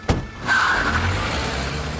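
A car moving along in a tense film scene, a steady engine and road rumble that swells after a short thump and holds fairly loud to the end.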